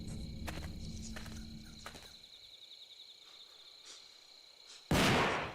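Gunfire echoes across shrine grounds in the video game Death Mark 2: a few sharp cracks over a steady insect-like drone, then one loud, harsh blast near the end.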